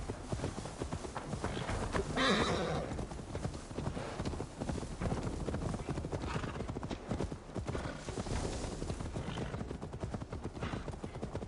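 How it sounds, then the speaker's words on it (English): Horse hooves clip-clop steadily through Assassin's Creed Valhalla gameplay, with a neigh breaking in near the start over a continuous bed of game ambience and some voices. "Now to deliver Magni his horse."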